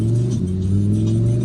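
A Lamborghini Huracan Evo engine while driving off the freeway, a steady low rumbling hum with a slight rev, heard close from inside the cabin.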